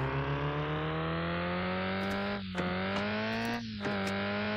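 A rally car in the gRally VR game drives on gravel with a steady, droning engine note that climbs gradually, broken by two brief shifts or lifts as it keeps revving, with a faint gravel rush underneath.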